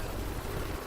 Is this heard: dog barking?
no